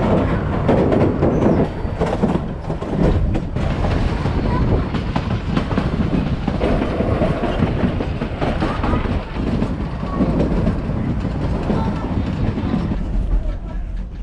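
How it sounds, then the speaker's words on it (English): A train on the Durango line pulling away and rolling along the rails, with a continuous loud rumble, rattling carriages and clickety-clack from the wheels, heard from on board. "Beware of soot when the train departs."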